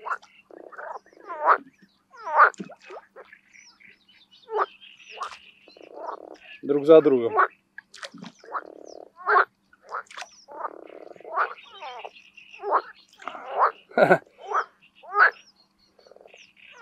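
Toads croak in mating season at a wild fishing spot, with repeated close rasping and rattling calls arriving in irregular bursts, one after another, while someone speaks briefly.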